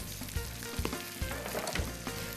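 Corn noodles and chopped red pepper sizzle in a pan, with a steady loud crackling fry and stirring scrapes and clatters against the pan, and no voices.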